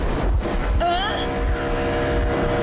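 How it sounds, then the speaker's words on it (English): Train in the video game Metro Exodus, heard as a constant loud mechanical rumble with a brief rising whine partway through, steady for the whole short stretch. "Another train."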